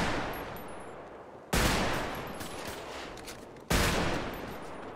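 Gunfire in a GTA roleplay game, two abrupt loud blasts a couple of seconds apart, each followed by a lingering rattling decay.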